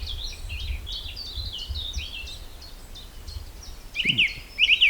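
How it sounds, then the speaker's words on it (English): Several birds chirp and twitter in an early-morning vegetable garden, light repeated calls over a low background hum, with a louder, sharper bird close by near the end. "Birds are chirping up there."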